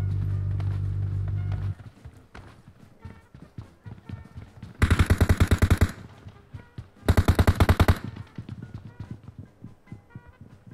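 Gunfire in the mobile shooter PUBG Mobile: after a low rumble, two loud close bursts of rapid automatic fire ring out, followed by scattered single shots and sharp impacts.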